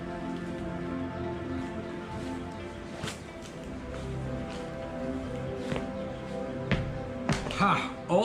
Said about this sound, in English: it's still raining very, very heavily